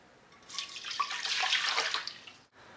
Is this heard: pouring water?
yes